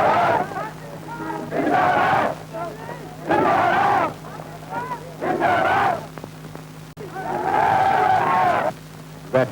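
Crowds at a great procession during the birth of Pakistan give loud, surging cheers and shouts in repeated waves, with a narrator's voice between the bursts.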